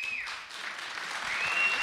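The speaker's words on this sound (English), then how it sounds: "the five faculty that teach it are clapping" A small group of faculty claps steadily at a live theater event about public policy, a soft, even patter of hands that holds steady and grows slightly louder toward the end.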